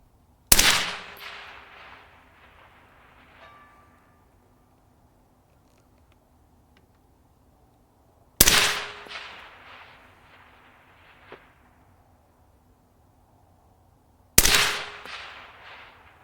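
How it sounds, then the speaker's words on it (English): Mk12 Mod 0 SPR rifle firing three sharp, loud single shots several seconds apart outdoors, each followed by a decaying echo and quiet between. "9 shots. Last shots of the video, let's go."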